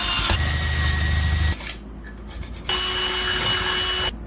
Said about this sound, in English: I'm just going to drill some holes here